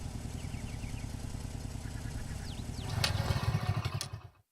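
A motorcycle engine running roughly with a steady low chugging, then sputtering harder and cutting out abruptly as it stalls, heard close by.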